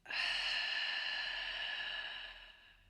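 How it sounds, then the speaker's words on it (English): A single deep, breathy exhale during a guided breathing exercise, loud and close at first and slowly tapering off over a few seconds, with no talking. "Deep breath out."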